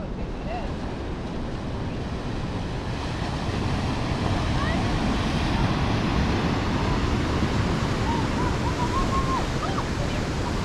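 Ocean surf rolling in at Huntington Beach, a steady broadband wash of breaking waves mixed with wind rumble on the microphone, continuous and fairly loud throughout with no pauses.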